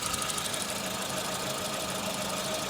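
Suzuki Samurai engine runs with an ignition wire removed, giving a steady, rough idle with uneven knocking and a constant hiss, close by and without speech.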